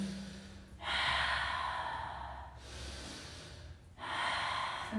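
Deep breaths during a family yoga session: two slow, audible inhales and exhales through the nose, close and clear, with no one talking over them.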